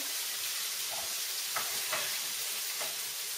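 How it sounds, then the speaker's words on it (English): Onions fry in a pan for Syrian rice and lentils, giving off a steady, bright sizzle with a few faint stirring scrapes. Nobody talks. "We're going to fry the onions until they're dark brown."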